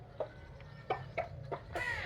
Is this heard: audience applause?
no